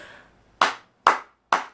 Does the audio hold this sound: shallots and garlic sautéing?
no